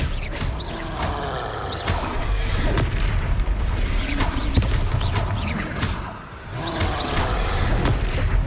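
Magic blasts and booming spell impacts from the Hogwarts Legacy video game, heavy and repeated across several seconds amid dense combat noise, with brief grunts and a voice faintly in the mix.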